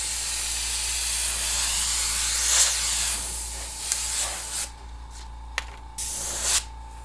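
Airbrush spraying a short blast of white paint onto a Christmas design, a close, steady airy hiss of compressed air that drops off after a few seconds, followed by brief intermittent puffs.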